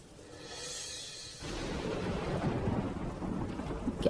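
Cartoon rain and thunder: a low thunder rumble rolls in, then steady, dense rainfall takes over and hisses continuously, moderately loud and with no voices.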